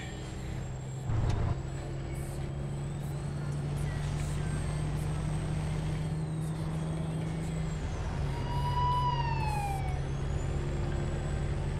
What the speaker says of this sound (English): If you guys are wondering what those sirens are coming from, I have an emergency AI pack for the, you know, the emergency vehicles